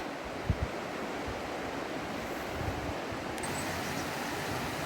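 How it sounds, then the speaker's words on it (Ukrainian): A mountain river in the Carpathians rushes and swirls over stones, a dense, steady roar of water throughout with a couple of faint knocks early on. "аж закручує за камінням від потоку води, такий наче аж водоворот іде"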